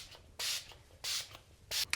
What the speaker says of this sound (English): today in the evening I'm going to spray some hypochlorous acid